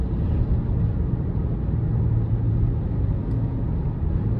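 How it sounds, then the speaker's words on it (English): Wind noise inside the cabin of a 2023 Toyota Crown XLE AWD 2.5 hybrid cruising at 55 mph, a steady broadband rush with low road rumble underneath and nobody speaking. "we're getting just a little bit of wind noise here, cruising at 55"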